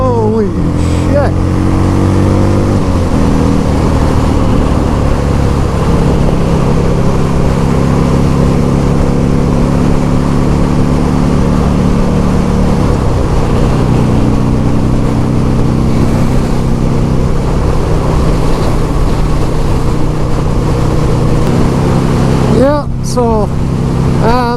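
A 2004 motorcycle, either a fully customized Yamaha FZ1 or a stock Buell XB12, pulls hard up through the gears toward the rev limiter. The engine note climbs steadily in several stepped surges, loud and close, with wind rush.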